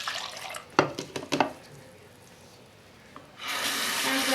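Apple cider vinegar pours into a plastic bottle at home, with a few short splashy gurgles and knocks early on, a quiet pause, then a steady rushing stream of running water at the end.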